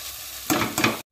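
Khichdi being stirred in a pot over the flame, a soft background sizzle with two louder scraping strokes of the spoon, close, ending abruptly.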